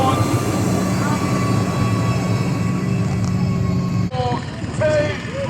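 Large Varo tractor engine rumbling past in an agricultural vehicle parade, a loud steady drone with a sharp shift partway through as it passes, with a person talking over it.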